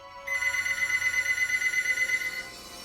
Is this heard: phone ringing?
yes